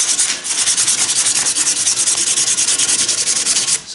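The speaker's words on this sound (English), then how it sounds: "take a little sandpaper" Sandpaper rubbing by hand on a metal part of a Stanley hand plane, a steady, loud, close scratchy rasp of rapid back-and-forth strokes running continuously for a few seconds.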